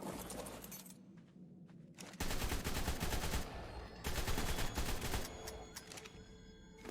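Rifle gunfire in the video game Ark Survival, set in an ice cave: bursts of loud, rapid shots in several clusters, with quieter gaps between volleys.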